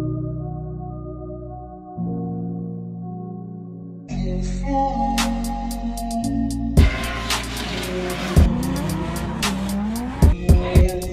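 SR32-engined car drifting with no third or fourth gear: the engine climbs in loud stepped revs, then squealing tires and sharp thumps break in repeatedly, close and aggressive.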